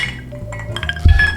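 Glasses clinking together in a closing toast over sips of Old Forester 100 Proof bourbon, a brief bright chink near the end of the clip with no talk over it.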